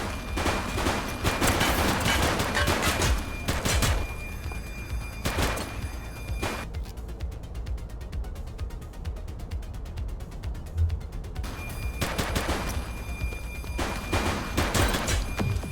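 A suspect fires on police in The Precinct video game: sustained rapid bursts of loud gunfire with sharp mechanical clatter, a brief lull in the middle, then more volleys. No voices.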